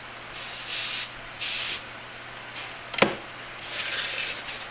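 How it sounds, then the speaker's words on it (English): An aerosol can sprays orange paint in light coats, giving three short hissing bursts spaced apart, with a single sharp knock between them, close and moderately loud. "I'm going to start spraying the orange first. Really light coats."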